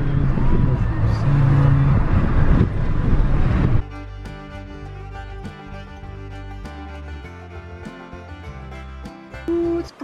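Road noise and engine rumble from inside a moving car on the Blue Ridge Parkway in North Carolina for a few seconds, then it drops away and music plays quietly.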